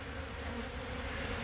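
Honey bees at a ranch hive make a dense, continuous buzzing drone, steady and fairly close, with no voices.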